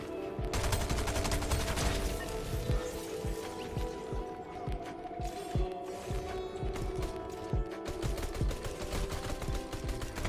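Rapid video game gunfire crackles in dense bursts with mechanical clatter, loud and continuous.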